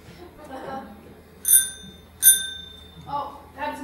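A small bell rung as a signal to come down, two bright metallic dings about a second apart, clear and close, with people talking softly before and after.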